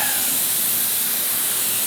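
A steady, loud hiss of an aerosol can spraying hydro dipping activator continuously at close range, with no talking.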